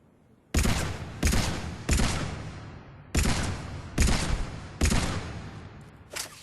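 Carnifex heavy pistol firing in Mass Effect 3: six loud, sharp shots spaced roughly evenly over several seconds, each with a short decaying tail, with no talking.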